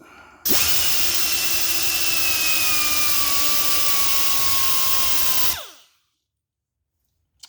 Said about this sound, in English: I'm going back to the ball mill.